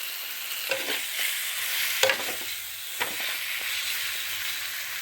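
Fried eggs being stirred through spice masala in a pan for egg curry give a steady, close sizzle broken by a few sharp spatula scrapes and knocks, with no talking.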